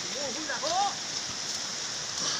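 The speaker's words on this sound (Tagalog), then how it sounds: "Ngayon po yung ulan." Continuous hiss of heavy rain pouring down in the mountains of Manoot, with brief chirpy calls rising over it near the start.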